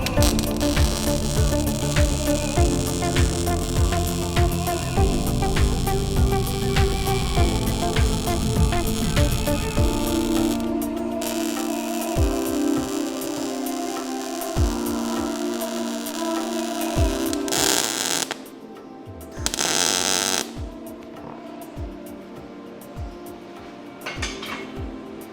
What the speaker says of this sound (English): All right, welding.